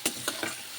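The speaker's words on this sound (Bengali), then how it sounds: "যতক্ষণ না লাল লাল ভাজা হয় পেঁয়াজটা ভাজতে থাকব" Onions frying in a pan for chicken biryani, with four quick scraping stir strokes cutting through a steady close sizzle at roughly even intervals.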